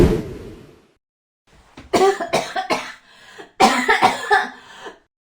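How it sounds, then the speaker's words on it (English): Two close bursts of harsh coughing, each a quick cluster of hacks separated by a short pause, with no talk. "She had a cough all day."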